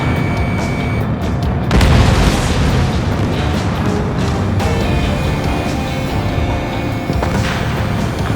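Rocket blast in the air-combat game Ace Combat 7, a heavy boom that swells near the two-second mark over a dense, continuous roar of battle noise and engines lasting throughout.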